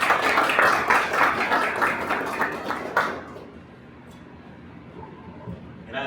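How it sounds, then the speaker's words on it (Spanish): Studio audience applause on a Spanish-language talk show, dense claps ringing out for a few seconds to welcome a guest before abruptly dying away into quiet room tone. "con este aplauso vamos a recibirlo."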